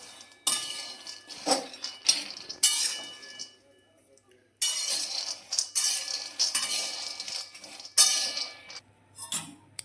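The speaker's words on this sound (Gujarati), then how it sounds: "ધીમા ગેસે આપણે દાણા બધા શેકી લઈશું" Peanuts being dry-roasted in a pan over a low gas flame for a milk-based peanut sweet, with scraping and clinking of a metal spoon against the pan in bursts, close and fairly loud, separated by short pauses.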